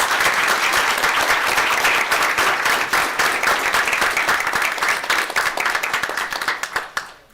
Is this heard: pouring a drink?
no